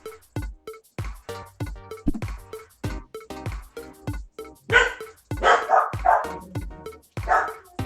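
Several dogs bark during a video game, in a rapid, fairly loud run of yips and barks that continue without pause and grow denser and more excited toward the end.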